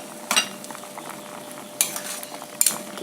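Vegetable soup with salt, sugar and stock powder stirred in a pot, three sharp metallic spoon clinks against the rim over a quiet bubbling background, near and otherwise calm.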